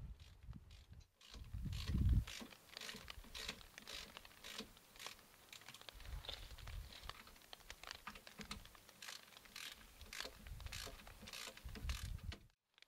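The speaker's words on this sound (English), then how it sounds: "This allows me to easily undo the bolts holding the caliper to the car." A ratchet works the brake caliper bolts loose on a Fiat Punto Mk2 during a brake disc and pad change, giving quick, faint, repeated clicking bursts with short pauses between them.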